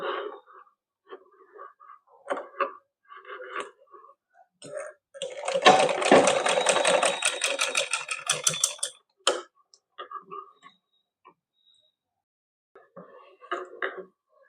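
A sewing machine runs in a short burst of rapid mechanical stitching while lace is sewn onto a pagdi, with soft handling clicks and rustles before and after.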